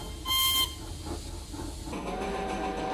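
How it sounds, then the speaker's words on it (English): A short, shrill steam whistle blast over a steady hissing, rumbling train background, followed by continued chugging noise, in a Thomas & Friends episode. "Then they heard a whistle."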